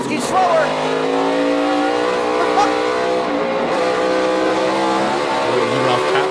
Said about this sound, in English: I love the sound of the cars. They sound so menacing, don't they?